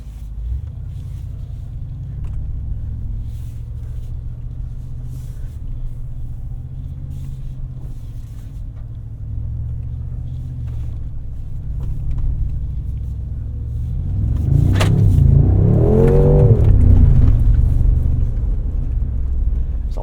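A 2025 Mercedes-AMG G63 rumbles along off-road trails with a low steady drone, then the engine swells into a loud revving surge near the end before easing off.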